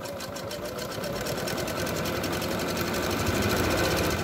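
A Singer Facilita 43 sewing machine stitches a zigzag, a fast, even mechanical whirr of needle strokes that picks up speed and holds steady, close and without talk.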